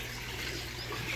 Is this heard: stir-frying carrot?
no